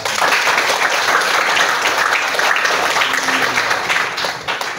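A crowd of schoolchildren claps in sustained, dense applause at a teaching session, loud and steady throughout before tapering slightly at the end.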